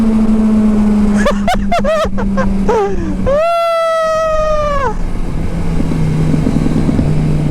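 A Ducati motorcycle engine on a road in General Nakar, Quezon, with a constant engine drone underneath. Several quick throttle blips are followed by a sustained rev that rises and falls, loud and close.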